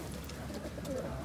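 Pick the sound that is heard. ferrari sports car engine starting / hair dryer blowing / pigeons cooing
pigeons cooing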